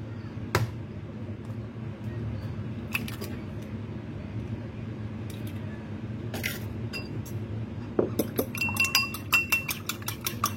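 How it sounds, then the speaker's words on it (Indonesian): A few sharp taps of eggshell against a bowl's rim as two chicken eggs are cracked into a clean bowl, then a quick run of small clicks and drips, over a low background hum. "kita pecahkan 2 butir telur ayam ke dalam mangkok bersih"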